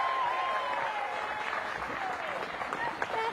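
A crowd applauding at a disc golf tournament on a rainy morning, a steady wash of clapping throughout, moderately distant, with a commentator speaking over it.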